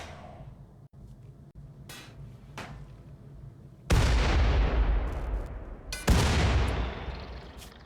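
A crew fires on turret defenses in the Rimworld video game. Scattered sharp cracks open the clip, then two loud heavy bursts of gunfire boom out, each decaying into a rumbling roar.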